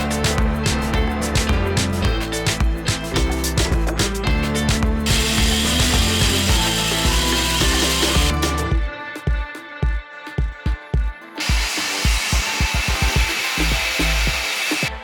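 A water jet cutter slices metal plates for adjustable table feet, giving off loud, continuous broadband roaring and hissing with sharp rattling transients, then a shift to choppier, intermittent bursts about two-thirds of the way through.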